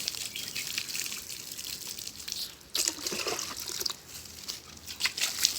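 Water is sprinkled by hand over ivy gourd plant cuttings: a soft, uneven patter and trickle of drops, close by and fairly quiet, with no talking.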